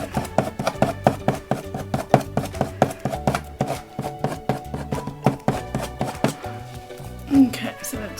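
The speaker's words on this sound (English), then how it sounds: "Using the very point of the palette knife to get those textures there." The point of a palette knife dabs and taps acrylic paint to build texture in a painting, giving close, rapid irregular clicks and knocks that run steadily without any voice.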